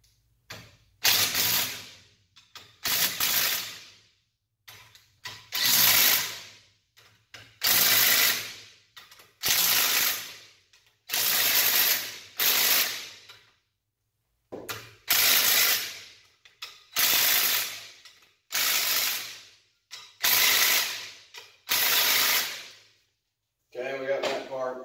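A ratchet wrench tightens bolts on a Devilbiss Camair CT30 compressed air filter in a crosspattern, giving repeated close, loud bursts of rapid clicking separated by short pauses.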